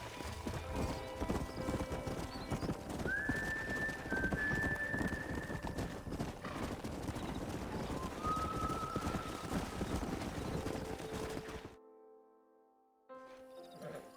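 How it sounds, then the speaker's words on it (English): Horse hooves clip-clop in a steady walking rhythm in Red Dead Redemption, moderately close, with a whinny, bird calls and a wild outdoor backdrop before the sound cuts away near the end. "We got some fine horses."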